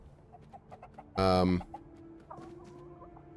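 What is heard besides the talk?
chickens clucking in the video game Tainted Grail: The Fall of Avalon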